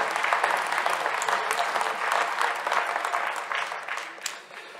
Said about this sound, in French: On peut les applaudir parce que c'est très important.